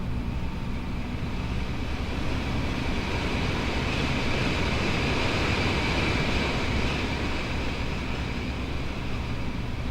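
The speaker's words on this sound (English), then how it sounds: "That's the sound of the vent." Steady broadband whoosh of a heating vent blowing warm air into a cold room, a constant close rush with no breaks or voices.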